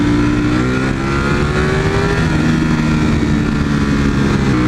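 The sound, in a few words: V4 motorcycle engine screaming in low gear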